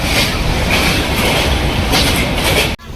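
A moving passenger train out of Kolkata rumbles loudly from on board, with a constant roar and rhythmic wheel clatter, briefly dipping near the end, and no talking.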